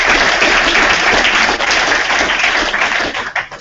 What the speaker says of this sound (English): On that note, guys, round of applause